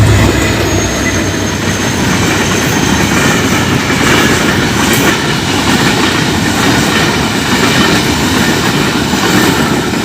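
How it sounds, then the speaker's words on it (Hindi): Trains pass at a railway crossing, a loud, steady rumble of rail cars with clickety-clack wheel rhythm and faint squealing running unbroken throughout, close by with no talk. "ये सामने आ रही है ट्रेन, इधर क्रॉसिंग है, इधर दूसरी तरफ से भी ट्रेन आ रही है।"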